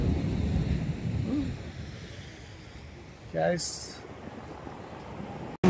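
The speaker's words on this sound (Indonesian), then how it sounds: "ombak begitu besar, jadi naik itu nanti tunggu ombak ini, suara ombak angin" Big ocean waves and strong wind at a harbour where fishing boats are moored, heard as a steady rushing roar of wind buffeting the microphone, with a voice speaking briefly over it.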